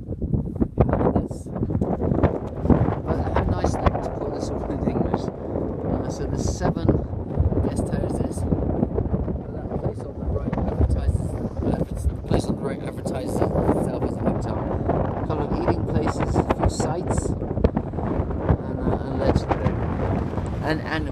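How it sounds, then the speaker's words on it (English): Strong wind buffets the microphone at Sary Tash in Kyrgyzstan, a loud, continuous roaring rumble with gusty surges that lasts the whole stretch and drowns out other detail. "it's definitely getting windier, so there's a good chance you're not going to be able to hear me"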